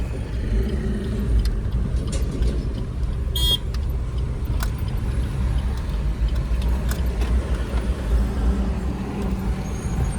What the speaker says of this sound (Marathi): चला आता आधी रस्त्याला काढतो गाडी.